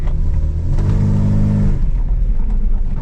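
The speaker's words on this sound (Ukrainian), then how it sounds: "Ось ми їдемо. Автоматик нормально перемикає" An automatic Audi A6 driving, its mid-pitched engine rising steadily under acceleration, then dropping abruptly as the gearbox shifts, heard loud and close from inside the car with no talking.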